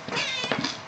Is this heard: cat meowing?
yes